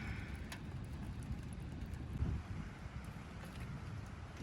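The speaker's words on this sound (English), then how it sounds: "Still pretty windy out there." Wind roars and buffets outside a hot tent while wild camping in Scotland, a continuous low rumble with gusts swelling and fading, heard from within the tent.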